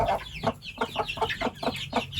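Young spring chickens cluck in a coop with a rapid, even series of close, moderately loud clucks, about eight in quick succession, with no other sound over them.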